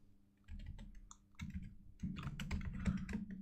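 Code being typed on a computer keyboard for a Swift ARKit project, a close, quiet run of uneven key clicks in bursts, growing busier toward the end.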